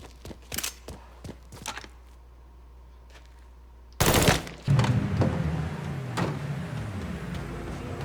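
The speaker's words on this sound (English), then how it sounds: "He's shooting the place down!" Gunfire in the Mafia 3 video game: a handful of sharp, separate shots come first, then a long, loud burst of rapid fire and heavy blasts. It stays dense and roaring to the end.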